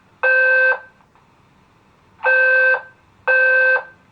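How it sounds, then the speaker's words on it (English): A fire alarm sounds three loud, harsh electronic beeps, each about half a second long, with the second and third close together after a pause, in an otherwise quiet room. "I know this fire alarm will save my life one day"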